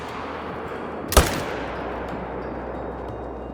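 A single hunting-rifle shot cracks sharply and loudly in TheHunter: Call of the Wild, followed by a short, fading outdoor echo over a steady ambient background, with no talk.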